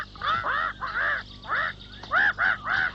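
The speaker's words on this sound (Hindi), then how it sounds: "क्यों चिल्ला रही हो मैना?" A cartoon mynah bird screeches in a run of harsh, squawking calls, about seven bursts in close succession with short gaps, loud and close with no talking.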